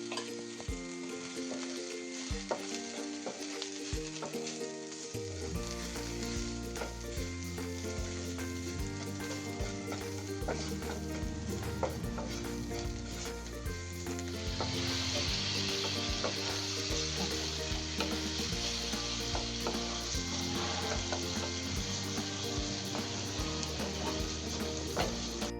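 Homemade masala and turmeric cook in a pan for cluster bean stir-fry, with a steady sizzle and intermittent stirring scrapes throughout. The frying grows louder partway through.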